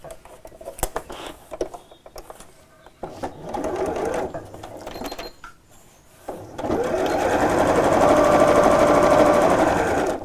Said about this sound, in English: now I'm going to sew with my 1/4 inch seam allowance